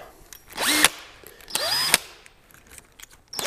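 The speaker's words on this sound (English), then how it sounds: "So again, I'm gonna pre-drill" A cordless power drill pre-drills holes into the top of a wooden bird nest box in two short bursts, each with a rising whine as the motor spins up, and another burst begins at the end.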